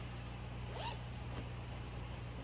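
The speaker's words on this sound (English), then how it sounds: "And the zipper opens wide, so you can open the bag wide." A zipper slides open along a fabric craft bag with gussets, one short quiet pull heard close over a steady low hum of room noise.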